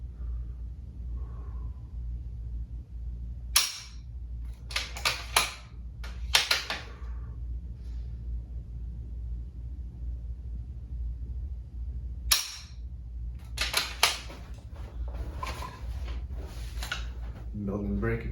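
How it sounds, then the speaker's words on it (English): Rifle fire during precision rifle match practice from a high kneeling position: two loud, sharp cracks several seconds apart, each followed by quieter mechanical clicks and clatter, over a low steady background hum. "Maybe take 1 or 2 shots."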